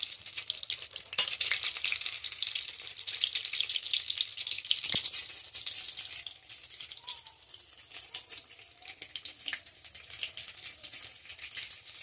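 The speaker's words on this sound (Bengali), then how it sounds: "এবার আস্তে আস্তে ভালো করে ভেজে নেবো, লাল করে।" Egg curry masala sizzles and crackles steadily in a pan over a low gas flame while being stirred, a continuous close frying hiss with occasional scraping knocks and no talking.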